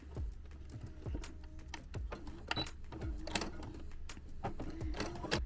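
A domestic sewing machine runs in short stitching bursts along the seam of an Among Us plush, its rapid mechanical clatter close and fairly quiet, with small handling knocks between runs.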